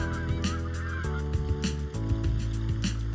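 Geese honking as they fly north, a loud, dense chorus of overlapping calls that continues without pause, close and with no voices.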